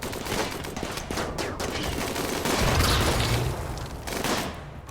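Rifle fire in a RimWorld battle: a dense, continuous fusillade of rapid shots and crackling bursts, loud and close throughout, swelling into a heavier roar in the middle with no talking over it.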